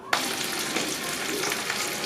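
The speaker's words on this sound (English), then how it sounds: "then I'm gonna dip the chicken in the oil and see what it do." Battered chicken hits hot oil with a sudden onset, then a steady, close, crackling sizzle continues alone for the rest of the stretch.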